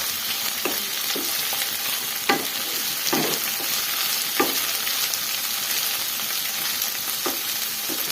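Pieces frying in oil in a pan for a spicy gravy dish, with a constant dense sizzle and a few soft stirring clacks against the pan, steady and close with no talk.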